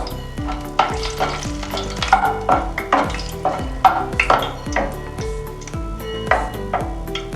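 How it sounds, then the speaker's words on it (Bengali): Dried red chillies frying in white oil crackle and sizzle while a utensil stirs in repeated clattering strokes, close and fairly loud over a steady tonal background. "আমি একটু সামান্য নেড়ে নিই"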